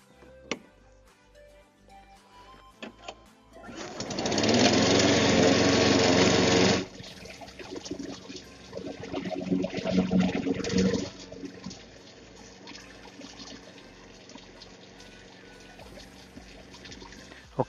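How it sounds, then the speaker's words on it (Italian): A Blackstone SP530 Deluxe self-propelled lawn mower runs with its blade spinning while being washed with a garden hose; a loud rushing spray bursts in for a few seconds, then sputtering water and a low motor hum continue. "attacchiamo la pompa qui e proviamo a lavarlo mettendolo in moto facendo girare quindi la lama"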